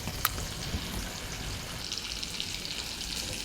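Ground bean paste mixed with black cumin fries in a pan, a soft continuous sizzle with faint stirring scrapes and one small sharp click early on, close but fairly quiet.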